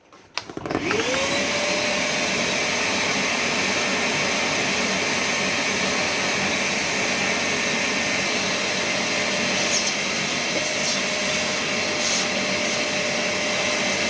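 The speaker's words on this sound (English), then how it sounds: "I'm going to give that a quick suck out with the vacuum" A vacuum cleaner sucks dust out of a desktop PC case's clogged front dust filter, running as a loud, steady, continuous drone from start to finish with no other sounds.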